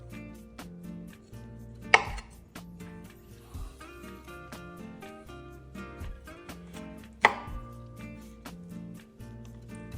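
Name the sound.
knife cutting through spatchcocked chicken joints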